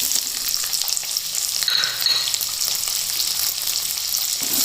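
Two large, roughly sliced onions fry and begin to brown in a pan, producing a dense, continuous hiss of sizzling with faint stirring movement throughout.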